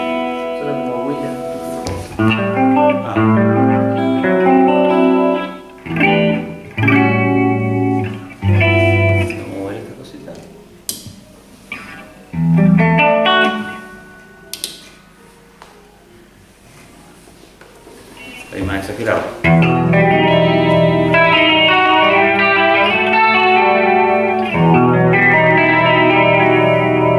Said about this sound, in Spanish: es como tener dos chorus en serie